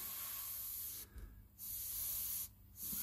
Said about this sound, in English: I picked this piece up and I started spraying again